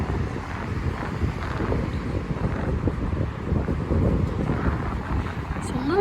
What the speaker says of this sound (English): It's a little bit windy. I hope it's not affecting the recording too much.